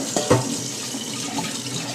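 Cold water is swirled around a pan to rinse out the last grains of rice, a close, steady sloshing with a couple of small knocks against the pan.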